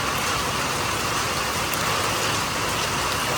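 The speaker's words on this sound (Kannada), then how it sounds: "ಅಷ್ಟರಲ್ಲಿ ಸಿಕ್ಕಾಪಟ್ಟೆ ಮಳೆ ಬರ್ತಿದೆ ಗೈಸ್." Heavy rain pours steadily outside a small village house set among plantation trees, a dense continuous hiss with no speech.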